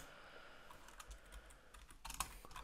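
Quick, irregular keystrokes on a computer keyboard, faint and close, with a brief burst of faster typing near the end and no talking.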